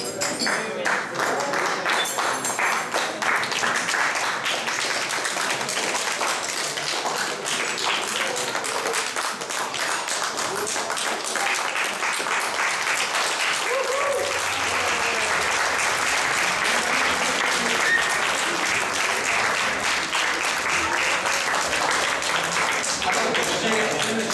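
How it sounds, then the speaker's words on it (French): Wedding reception guests applauding, dense continuous clapping that fills the room for over twenty seconds, with some voices underneath and a few glass-like pings. "levez votre verre et applaudissez cette personne"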